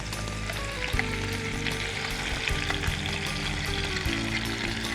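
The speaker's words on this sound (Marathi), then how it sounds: "कांद्याची पेस्ट घातल्याबरोबर त्यात टामॅटोची पण पेस्ट घालायची आहे" Onion paste and tomato paste fry in a pan for an egg dal curry, giving a steady, close sizzle throughout with occasional soft stirring bumps and no talk.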